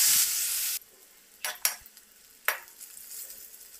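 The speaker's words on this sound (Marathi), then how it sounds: "लसूण पटकन फ्राय होतो, त्यामुळे पटकन काढून घ्या।" Garlic fries for bhel, crisping in hot oil in a pan with a loud steady sizzle that cuts off, followed by a few sharp scrapes and clinks of a spoon against the pan in near silence.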